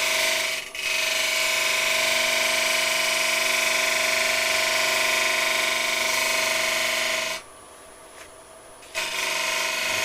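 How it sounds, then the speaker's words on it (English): A wood-turning lathe whirs steadily with a gouge or chisel cutting into the spinning wood, a continuous loud grinding hiss that drops away briefly near the end before resuming. "Just ease into the wood. That's all you want, and then just travel. Don't push too hard. Handle towards the lathe just a tad."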